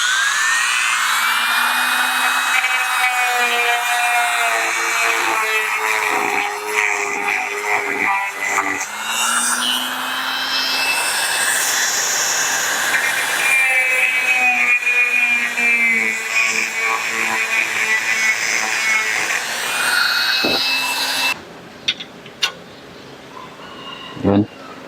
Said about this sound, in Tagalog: Matagal yung kikil kaya power tools ko na.